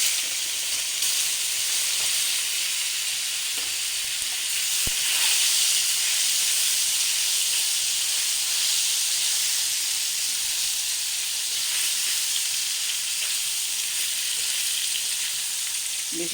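Cut paneer frying in hot oil in a pan, giving a loud, continuous, even sizzle with a steamy hiss and no break in the sound.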